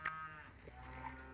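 Cattle on a hot farm where broken hay bales are being fed, a faint, drawn-out low moo held steady through the whole short moment.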